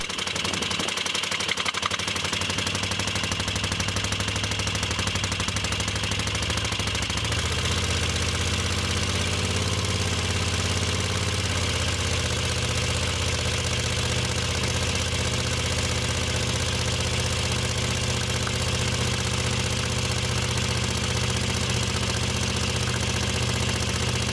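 A Moto Guzzi Le Mans 3 motorcycle engine, firing on both cylinders with the throttle held slightly open to avoid stalling, runs steadily and loudly, its idle pitch shifting lower partway through, with no voices.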